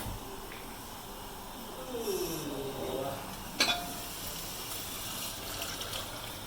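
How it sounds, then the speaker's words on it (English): Water poured into a cooking pot to braise pork belly, a short faint splash and trickle followed by a light clink of the pot, in a quiet kitchen. "I'm going to put in the water to start to braise the pork belly"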